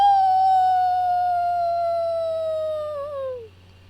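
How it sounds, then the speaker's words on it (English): A single wolf howl, used as a sound effect in a Halloween tabletop role-playing game session, holds one long, clear, slightly falling note before dropping away sharply at the end, loud and alone. "the howl of a wolf"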